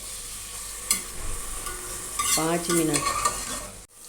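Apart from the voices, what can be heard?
onions frying and being stirred in a pan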